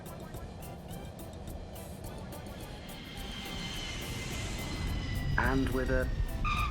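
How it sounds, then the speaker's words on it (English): A cartoon airplane lands on a runway, heard as a steady engine roar that gradually swells louder, while a narrator speaks over it and a brief higher voice breaks in near the end. "the plane lands on the runway."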